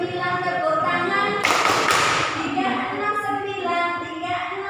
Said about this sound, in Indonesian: 369 tepuk tangan.